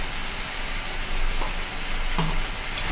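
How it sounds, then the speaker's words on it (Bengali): Tomato chutney with salt and turmeric sizzles loudly in a pan and keeps a steady frying hiss while a utensil stirs it, with a few brief scrapes. "দিয়ে এবার একটু নাড়াচাড়া করে নিই।"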